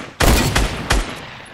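Two quick bursts of rapid gunfire, sharp and loud, close up, with a short gap between them and no talking, in Fortnite Battle Royale.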